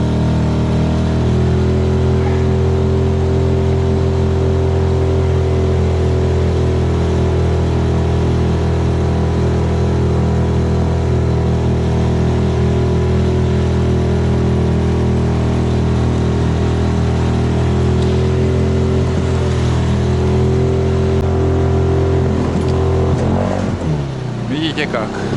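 A motorboat engine runs at low speed along a winding taiga river, giving a steady, close, continuous hum with a few pitch changes near the end. A voice can be heard over it.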